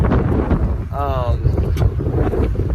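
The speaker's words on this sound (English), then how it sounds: "it's so windy outside." Steady wind roars and buffets across the whole clip, with a brief voice-like tonal sound rising out of the noise midway.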